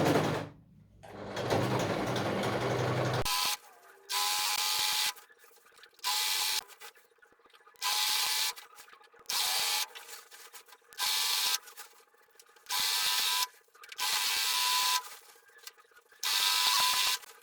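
A sewing machine stitching a curtain hem runs in repeated short bursts, each a steady buzzing whir separated by brief pauses, close and fairly loud, after a soft rustle of fabric at the start.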